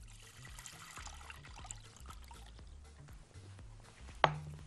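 Milk trickles and splashes as it is poured into a pot for custard, a soft, quiet pour with a sharper clink near the end and no talking.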